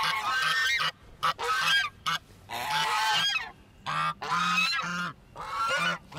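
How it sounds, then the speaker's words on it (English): Geese honk repeatedly nearby at a park, loud harsh calls coming in quick overlapping bursts with short gaps between them. "I don't know if they're ducks or geese."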